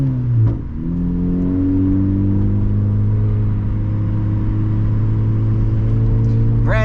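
A turbocharged Honda Civic engine revs up and pulls steadily, its exhaust droning loudly and climbing in pitch, with a brief dip in the engine note early on.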